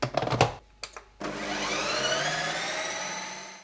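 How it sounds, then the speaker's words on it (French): Ice cream machine churning a homemade cookie ice cream base; a steady motorized whir starts abruptly after a few brief clunks and holds at constant loudness until the end, with no voices. "je vais pouvoir la mettre dans ma machine pour qu'elle soit foisonnée"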